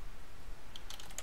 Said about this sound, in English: So you can type any information like